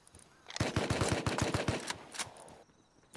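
An AK assault rifle fires in a rapid automatic burst of about ten sharp, loud, evenly spaced shots in the game Rust, followed by a few scattered shots that trail off into quiet.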